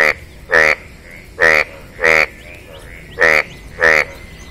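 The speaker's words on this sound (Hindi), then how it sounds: "मेंढक की आवाज" Close, loud frog croaks come in an even series of six rasping calls, each short and buzzy, separated by brief quiet gaps, during rain.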